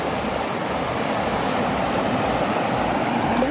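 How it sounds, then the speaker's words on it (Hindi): The Jhelum river at Sopore, Kashmir, rushes past in a loud, steady roar of broadband water noise, close and unbroken, with no voices over it. "देखिए माशाअल्लाह किस तरह पानी आ रहा है और बहुत ही शोर है पानी का"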